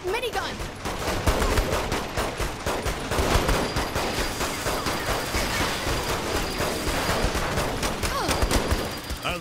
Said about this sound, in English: Shit, minigun!